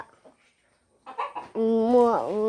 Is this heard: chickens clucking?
yes